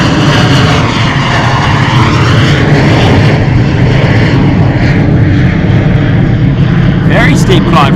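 A KLM Embraer jet climbs steeply on takeoff at Bristol Airport, its loud, rushing engine roar sweeping overhead and shifting in pitch, with people talking over it.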